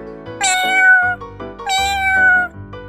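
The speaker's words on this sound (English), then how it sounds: "The cat says." A cat lets out two drawn-out, clear meows in succession, loud and close, with a brief pause between them and no other sounds around.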